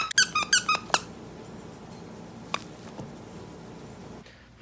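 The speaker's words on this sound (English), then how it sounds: "What's that squeaking sound?" A run of sharp, high squeaks comes in quick rapid pulses at the start of an online group call, then a couple of isolated squeaks follow over faint background hiss, with no talking.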